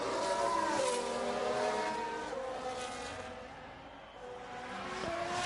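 A race car spins out in the F1 Manager 22 video game, with an engine drone and a tyre-squeal streak over steady race-track noise, no voices.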